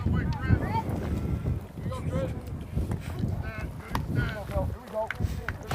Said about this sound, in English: Wind gusting up once again straight in from center field.